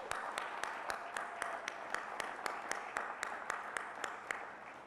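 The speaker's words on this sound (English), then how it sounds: "How about a big round of applause for Kyle and Pia for their introduction?" An audience at a marathon ceremony in New York applauds, a steady crowd of claps with a few sharp, distinct hand claps standing out, continuing at even strength throughout.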